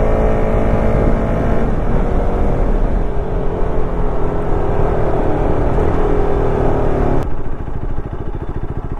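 A car passes along a road, its engine a loud, steady drone with gliding pitch that cuts off abruptly near the end.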